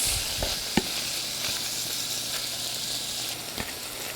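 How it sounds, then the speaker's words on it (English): Ground meat for pastitsio browns in a pan, with a steady close sizzle broken by occasional clicks and scrapes of a stirring utensil and no voices. "We're gonna start browning the meat."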